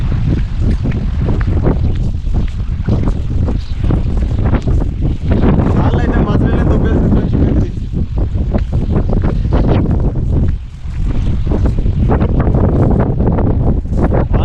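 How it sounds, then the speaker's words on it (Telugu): Strong wind roars steadily into the microphone throughout, buffeting loudly with brief lulls, and water sloshes underneath, during cast-net fishing at Sarala Sagar reservoir. "చూడండి ఎంత గాలి కూడా వస్తున్నారు"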